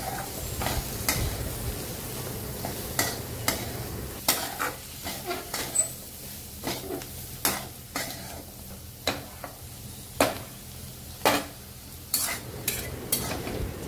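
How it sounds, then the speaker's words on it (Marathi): Green rajma bean pods sizzle in hot oil with red chili powder while being stirred, steady frying hiss broken by regular sharp scraping strokes of a spatula against the pan, close and alone. "छान असं परतून घ्यायचं"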